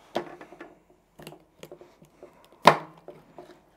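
A wild rabbit is cut in half with a knife before cooking in a tandoor, giving a string of close, dry chopping knocks and crunches, one much sharper crack near the end, with no talk.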